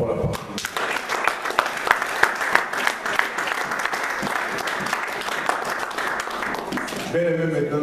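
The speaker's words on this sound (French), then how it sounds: "Acclamons pour la parole." A church congregation applauds together, a steady wash of clapping with crisp individual claps, sustained for several seconds before fading into a sung or spoken voice at the end.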